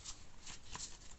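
Tarot cards being shuffled by hand at a desk, a quick run of soft riffling bursts, close and quiet, with no voice.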